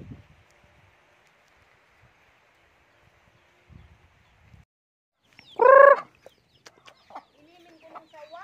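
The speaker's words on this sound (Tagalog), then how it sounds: "Laki ng manok oh." Poultry at a rural spot in Ligao City, with a large rooster among them: a loud burst of crowing or clucking near the middle, then scattered fainter calls and rustling against quiet outdoor background.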